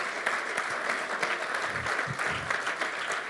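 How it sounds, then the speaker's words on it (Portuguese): Congregation applauding during a church service, a steady, moderately loud wash of many hands clapping, with individual claps occasionally standing out. "Dê um aplauso bem forte ao Senhor."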